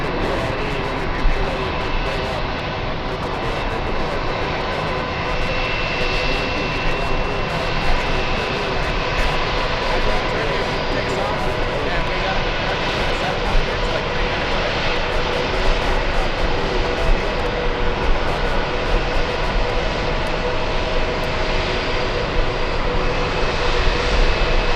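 Turkish Airlines Boeing 777 jet at JFK airport, Terminal 5, a loud continuous engine roar and rumble heard close by from an outdoor viewing spot, steady throughout with no talk.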